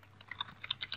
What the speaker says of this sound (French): je viens sur le clavier, regardez, j'appuie les caractères